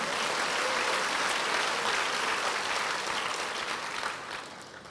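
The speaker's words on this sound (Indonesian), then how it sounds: "Berikan tepuk tangan lebih keras lagi." Sustained, dense applause from a church congregation fills the room, loud and steady throughout before easing slightly near the end.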